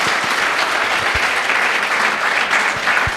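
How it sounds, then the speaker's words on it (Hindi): Applause from a campus audience of students at an entrepreneurship talk, a steady dense wash of clapping close by for the full stretch, with a few low thumps and no speech. "चलो इसके लिए भी तालियां होनी चाहिए भाई"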